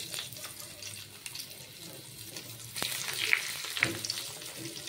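Folded eggs drop one by one into hot oil in a wok, a quiet sizzle that grows louder in the second half with a few sharp crackles and clinks.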